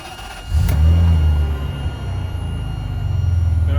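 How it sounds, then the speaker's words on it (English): A 2005 Ferrari Superamerica engine starts with the key: a short crank, then it catches with a loud rising roar and settles into a deep, steady idle that builds slightly again toward the end. "Then I can just start the car conventionally"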